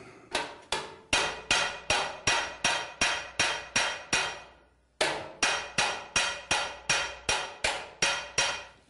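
A hand hammer striking metal in a traditional workshop, about twenty sharp, evenly spaced blows in two steady runs separated by a brief pause, loud and close with ringing decays.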